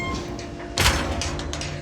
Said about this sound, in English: Close the door down.